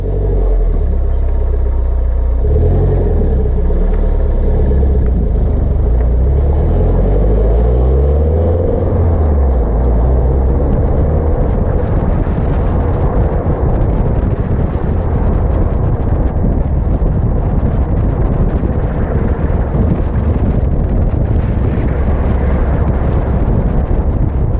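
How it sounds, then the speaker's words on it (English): A Toyota MR2 fitted with Lotus wheels drives along a road, its engine rumbling loudly and rising in pitch at the start before settling into steady road and tyre noise. "We'll go for a quick drive"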